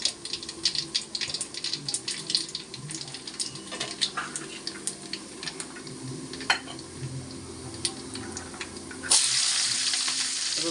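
Chili and black cumin tempering in hot oil for a crab curry crackle and spit in sharp irregular pops close by, then a sudden louder, steadier sizzling rush takes over near the end.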